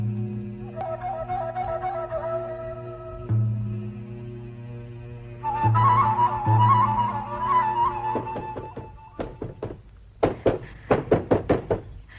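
Sharp knocks on a door in a Turkish film scene, a few scattered raps then rapid bursts of close, loud knocking, over steady low hum and background music.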